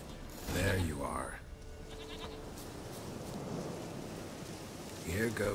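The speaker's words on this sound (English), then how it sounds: "Here, goat." Goat bleating in The Witcher 3 video game, two loud wavering bleats at the start and end with soft rain pattering in between and someone talking briefly.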